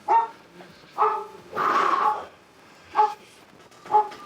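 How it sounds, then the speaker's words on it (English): Several dogs bark at home in short, loud bursts spaced about a second apart, with one longer, higher yelp in the middle and no talk over them. "Hear my dogs losing their shit?"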